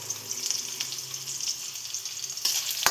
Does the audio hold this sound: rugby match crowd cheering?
no